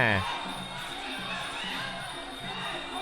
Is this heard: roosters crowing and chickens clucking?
no